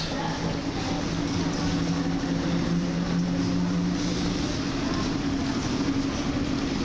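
A train hauled by EP07 electric and SM42 diesel locomotives passes through a station, a steady rumbling drone with a low engine hum, constant and moderately loud throughout.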